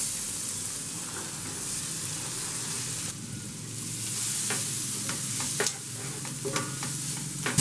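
Chopped onion frying in heated butter for butter chicken gives a steady, hissing sizzle, broken by a brief dip and then by quick scraping clicks as a spoon stirs the pan, with no voices.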